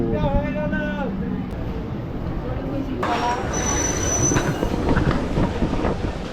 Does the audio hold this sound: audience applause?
no